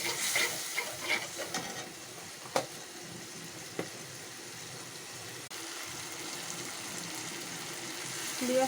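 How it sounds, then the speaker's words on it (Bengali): Spice paste with garlic, onion and salt is stir-fried in a pan, a low steady sizzle with a few sharp spoon knocks early on and a faint voice in the background. "আমার মশলাটা কষানো হয়ে গেছে"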